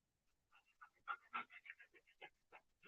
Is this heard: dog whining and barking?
yes